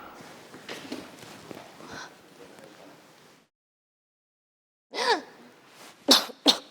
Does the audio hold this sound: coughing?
yes